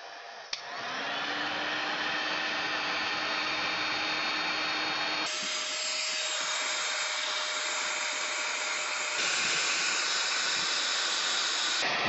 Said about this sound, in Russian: Теперь включаем фен и прогреваем.